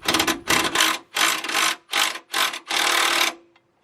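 A jack lowers a 2005 Chrysler PT Cruiser during a brake job on concrete, a loud close rhythmic ratcheting in six or seven short bursts before falling quiet.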